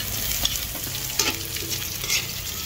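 Onion is added to browned garlic in a hot pan, giving a continuous close sizzle broken by a few distinct utensil scrapes and taps as it is stirred, with nobody talking.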